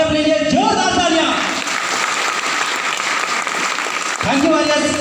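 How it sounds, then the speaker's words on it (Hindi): Loud, sustained applause from an audience at a business meeting, with a voice speaking at the start and again near the end over the clapping. "सो प्लीज एक बार अपने अपने लिए जोरदार तालियां"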